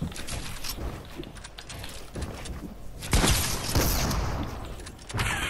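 Gunshots fired through a wall in the shooter Fortnite: a quick series of sharp cracks and mechanical clatter, loud and close, with heavier blasts bunched toward the latter half.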